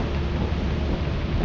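Stormy weather in the video game Lethal Company, with rain and wind as a dense, continuous broadband roar that stays loud and even throughout.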